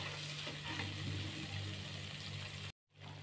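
Coconut milk cooks in a pan over dried mushroom rendang spice paste, a steady close sizzle with a faint low hum, then a sudden brief cutoff near the end before the sizzling returns.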